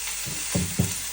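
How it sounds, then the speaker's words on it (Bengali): Flat beans and diced potato fry in a pan with a steady, close hiss of sizzling oil, broken by two soft knocks of stirring near the end; no one speaks. "সবজি একটুখানি সিম আর একটুখানি আলু এখন এটা দিয়ে ভেজে নিব"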